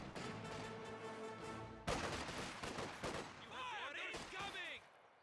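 Gunfire on a Grenadier squad in the Company of Heroes 2 battle game: sharp overlapping shots and volleys over a busy battlefield din, ending with whistling, sweeping effects that fade out.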